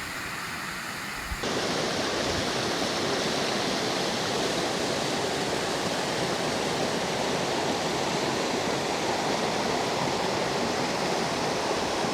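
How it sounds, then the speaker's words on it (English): A waterfall on a hiking trail in Wales gives a loud, steady rushing roar that starts abruptly after a brief quieter moment and continues unbroken and close by, with no voices. "It takes us to the waterfall"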